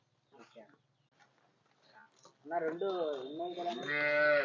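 On a dairy farm keeping Holstein Friesian and Jersey cows, a few quiet spoken syllables give way to a loud, drawn-out moo that rises and wavers over the last two seconds, close to the microphone.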